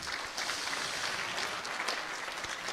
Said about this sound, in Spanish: Un fuerte voto de aplausos para él.